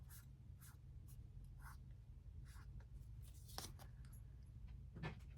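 A regular-style pen with a fine tip writes on paper in a quiet room, producing soft repeated scratching strokes in short bursts over a low steady hum.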